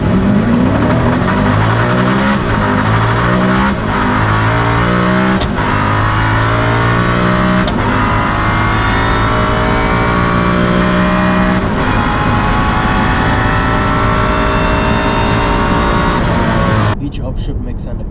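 A Koenigsegg engine revs hard and climbs through the rpm repeatedly, loud and close, with rising harmonic sweeps, shift breaks and turbo whine before a sudden cutoff near the end.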